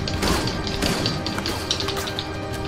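Stun grenade blast during an online match of Resident Evil: Operation Raccoon City, a loud sustained burst of crackling, clattering noise with repeated sharp impacts filling the whole moment.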